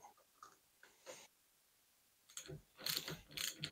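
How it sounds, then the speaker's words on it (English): Someone reinstalls the air spring top cap on a RockShox Pike suspension fork. A few soft ticks come first, then a denser run of close mechanical clicking near the end. "Last thing on the air spring side is to reinstall the top cap."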